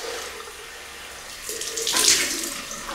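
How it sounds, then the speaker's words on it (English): A tap runs for a cold water rinse after shaving, a close, soft steady flow of water that grows louder and splashier partway through as it strikes the sink. "Cold water rinse."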